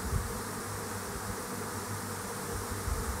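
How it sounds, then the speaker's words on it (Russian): A large honeybee swarm hums in the open air, a dense, steady drone with a few louder passing buzzes of nearby bees, heard alone without any voices. "послушайте, как гудят пчелы"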